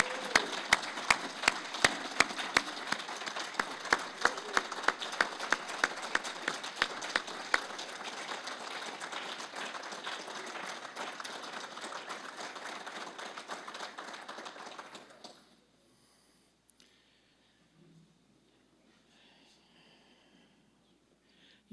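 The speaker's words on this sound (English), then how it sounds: "Let's give them all a big round of applause." An audience at a Coast Guard Auxiliary awards dinner applauds for about fifteen seconds, a dense wash of clapping with sharper individual claps, then it stops abruptly and near-silence follows.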